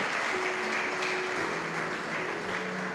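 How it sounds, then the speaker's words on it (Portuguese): A church congregation at a worship conference applauding, an even, sustained wash of clapping from a crowd, with faint held musical tones running softly underneath. "Dê um aplauso para o Senhor"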